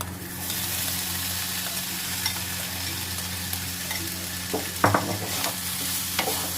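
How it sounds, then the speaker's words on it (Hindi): Marinated paneer frying in a pan makes a constant close sizzle with a low steady hum beneath, broken near the end by a few clattering stirring scrapes; nobody speaks. "अब हम इसमें अपना मैरिनेट किया हुआ पनीर डाल देंगे।"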